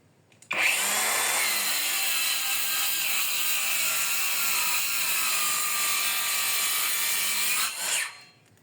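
MOLLAR cordless circular saw cutting through wood at its highest RPM: one continuous loud, bright whine that starts abruptly, holds steady for about seven seconds, then winds down as the blade leaves the cut.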